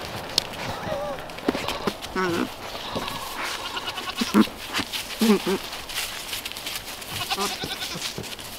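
Several goats bleat in short, scattered calls over a rustling background, some close and loud, with people talking now and then.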